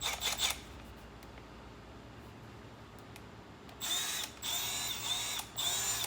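Milwaukee M12 cordless impact driver, non-Fuel model, running in short bursts: a steady motor whir, then two or three louder rattling spells as it starts to hammer.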